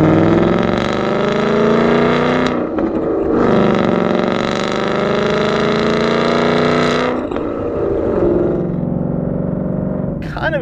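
Borla ATAK 3-inch cat-back exhaust with four-inch carbon tips on a 2018-2023 Mustang GT, a loud, raspy V8 roar swelling through revs in long sustained pulls with brief dips between, close and alone.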